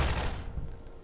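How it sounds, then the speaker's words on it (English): Gunshot in Half-Life 2, a single loud burst with a short ringing decay that fades within a second. "Who shot me?"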